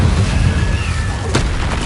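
Incendio fire spell in Hogwarts Legacy on PS5, a loud rumbling whoosh of flame with a boomy low end and a sharper crackling flare near the end, no talking.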